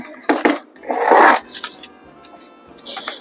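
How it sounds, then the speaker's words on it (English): Ice cubes dropping into a glass of bourbon and grapefruit cocktail make a few bright clinks and rattles, close and crisp, followed by softer scattered taps. "let me put some ice in it first"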